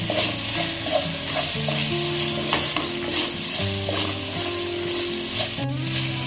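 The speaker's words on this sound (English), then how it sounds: "Now we will cook this up nicely along with the onions." Onions fry in a pan with turmeric and red chili powder, a dense steady sizzle broken by scraping stirs close by, while tonal background music plays underneath.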